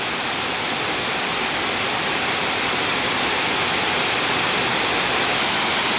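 The 600-metre Dudhsagar waterfall in India roars as a dense, unbroken hiss of falling water, loud and steady throughout with no other sounds.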